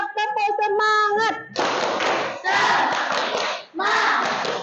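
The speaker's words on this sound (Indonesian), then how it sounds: "sekali lagi yang kompak, tepuk semangat." A classroom of children performs a rhythmic 'tepuk semangat' clap chant, voices chanting at first, then bursts of loud group clapping in three sections.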